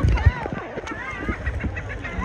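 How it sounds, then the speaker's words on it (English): Birds squabble over scraps of food at Half Moon Cay in the Bahamas, a cruise stop, with harsh honking calls repeating in a busy, uneven flurry against a noisy outdoor background. "These birds over here tearing somebody's food up."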